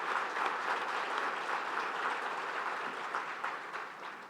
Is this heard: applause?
yes